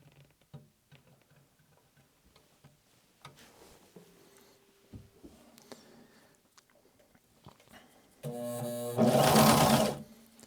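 A sewing machine stitches an edge of automotive upholstery: a few light ticks and clicks as the needle is lowered, then a loud, close burst of fast whirring stitching lasting about two seconds.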